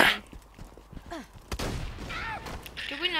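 Gunfire in the video game Borderlands 2, shots fired into the air: a few sharp bursts, the loudest near the middle, mixed with game effects and voices.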